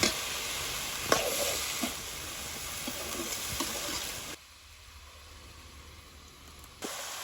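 Chopped onion fries in oil with a bright, continuous sizzle and a few stirring clacks. Midway the sizzle drops to a much quieter hush, then swells again near the end.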